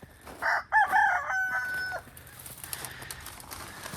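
Rooster among a flock of mixed chickens gives one loud, close crow of a few quick notes, followed by soft clucking and farmyard background.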